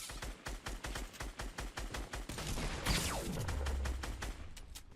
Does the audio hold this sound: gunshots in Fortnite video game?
yes